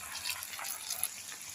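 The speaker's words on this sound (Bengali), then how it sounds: "এবার আমি মিশিয়ে রাখা সসগুলো এতে ঢেলে দেব।" Mixed sauces poured into a pan for chilli paneer, a faint, brief liquid splash and trickle that is soft and close.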